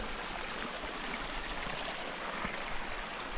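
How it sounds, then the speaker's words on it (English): Snowmelt runs down a mountain trail like a small river, a faint, steady broadband rush and gurgle of water flowing continuously outdoors with no voices. "right now the trail is just a river"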